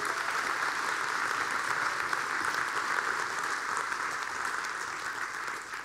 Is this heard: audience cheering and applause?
yes